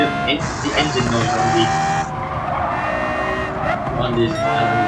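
Car engine in Gran Turismo 7 drives a steady, loud revving drone with a tire squeal layered in while someone talks over it.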